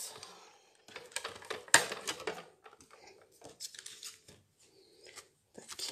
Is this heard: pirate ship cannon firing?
no